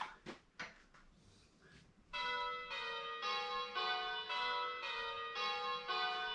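Simulated church bells ring in rounds, a steady sequence of clear, evenly spaced tolling strikes that follows a few faint knocks at the start.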